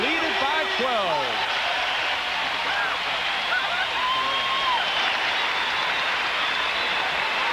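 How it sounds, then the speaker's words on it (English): Basketball arena crowd at a Blazers–Pistons NBA game roaring during a break, a broad, steady wash of cheering noise with whistle-like tones early on and a commentator talking over it. "As we go to break, listen to the crowd"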